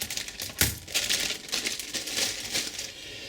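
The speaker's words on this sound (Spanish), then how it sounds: "acá tenemos el teclado nuevo que vamos a sacar de la bolsa" A new laptop keyboard is pulled from its plastic bag, giving close, busy crinkling and rustling of plastic with a few sharper clicks, and no talking.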